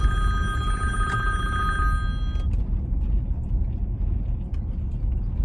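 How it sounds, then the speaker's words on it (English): A mobile phone rings with a bright repeating electronic tone for about two seconds despite Do Not Disturb being on, loud over a steady low rumble that continues after it stops. "how unhappy my face was when that phone rang, in spite of Do Not Disturb being on"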